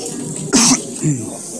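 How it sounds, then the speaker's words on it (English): A single sharp cough bursts out, followed by a softer short throat sound, with faint background hiss between. "Coughing on the wind"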